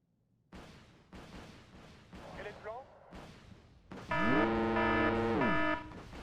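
Combat noise from Wargame: Red Dragon, with Lafayettes shooting rockets out of the sky: a series of sharp bursts and whooshing fire, then a loud sustained tonal wail near the end, alone without talk.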